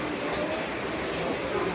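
Inside a train, a steady, loud rumble of rolling carriages fills the whole moment, with a voice faintly under the noise.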